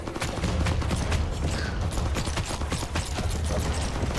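Rapid SMG fire in the zombie survival shooter FatalZone, a continuous stream of close, evenly spaced shots that runs the whole time without pause.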